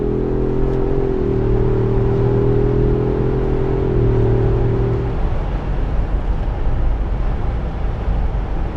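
Ford Bronco V6 engine pulling under throttle on the road, a steady droning engine note with a harmonic hum that holds for several seconds and then fades into broadband road and wind rumble, loud and continuous with no talking.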